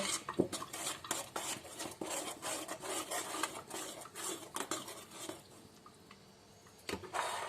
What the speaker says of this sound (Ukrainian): Все це зразу розмішую.